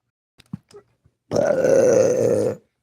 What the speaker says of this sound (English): ain't that a spiritual burp or what?